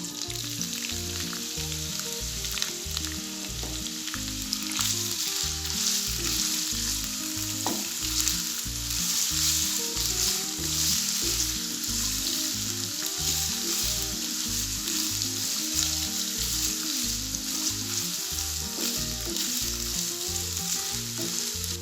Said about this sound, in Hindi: अब मैं गाजरें फ्राई करूँगी